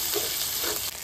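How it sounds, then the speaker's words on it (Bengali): Ginger, garlic and onion frying in a pan for a fish and curry dish, giving a soft, steady sizzle over one brief moment, with faint stirring and no voices. "আদা রসুন পেঁয়াজ একটু ভালো করে ভেজে নিই"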